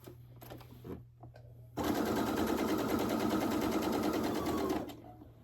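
A sewing machine stitches a fabric coffee cup cozy in one steady, rapid run of about three seconds, close and fairly loud, after a few quiet handling taps, then it stops.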